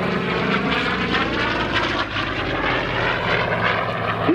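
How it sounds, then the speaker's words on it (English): A Goodyear F4U Corsair, a World War II carrier-based propeller fighter bomber, roars past at an air show flight demo, its loud droning piston engine steady and close with a slight swell. "This one is a Goodyear Corsair."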